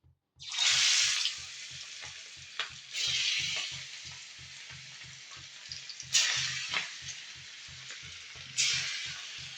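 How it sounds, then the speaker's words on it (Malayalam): Masala-marinated prawns drop into very hot oil, hissing and sizzling loudly in repeated bursts as more pieces go in, with a steady low rhythmic thump beneath and no talking. "അത് നമുക്ക് എണ്ണ നല്ല ചൂടായിട്ട് എണ്ണയിലേക്ക് ഇട്ട് കൊടുക്കുക"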